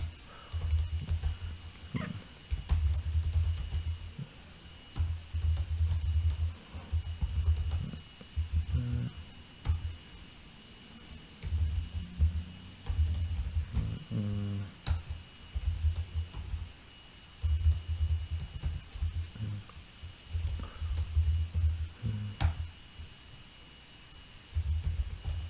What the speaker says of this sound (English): I just typed a few keywords.